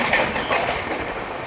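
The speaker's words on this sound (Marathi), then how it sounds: "आपली ट्रेन बघा किती मस्त आणि अशा छानशा गतीने पुढे पुढे जाते रत्नागिरीच्या ओरला" A passenger train rolls along toward Ratnagiri, a loud steady rumble of wheels on track with faint rhythmic clatter, close and continuous with no talk.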